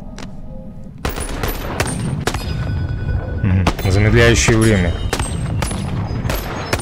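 Rapid loud gunshots fired at targets in the VR video game Boneworks, sharp repeated blasts with ringing tails, while someone speaks in Russian.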